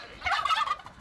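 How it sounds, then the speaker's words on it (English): A single proud farm turkey lets out one rapid, warbling gobble, close and clear, lasting under a second with no talking over it. "They roam alongside a rather proud turkey"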